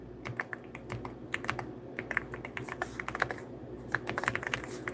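Rapid typing on a computer keyboard, with dense clicking keystrokes in uneven bursts, close and clear, and no talk.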